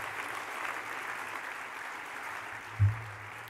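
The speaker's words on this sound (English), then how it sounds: "let's give them a round of applause this evening" Applause from an audience at an annual Commerce Lexington dinner, a steady, fairly faint wash of many hands clapping together with a single low thump near the end.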